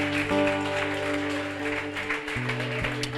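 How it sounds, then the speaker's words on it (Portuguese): A church congregation applauds during an anniversary service, a steady wash of clapping over sustained keyboard chords, filling the room at moderate loudness. "Você pode aplaudir e exaltar a Ele"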